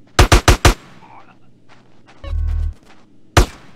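Gunfire in the video game GTA San Andreas: a rapid burst of four sharp shots, a brief low rumbling blast, then one more loud shot, all close with faint game sounds between.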